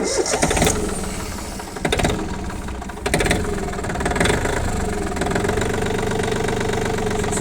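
A mini tractor's engine cranks and catches without gas assist, in a cold-start setup with automatic glow plugs, then settles into a steady, loud idle with knocking irregular bursts early on.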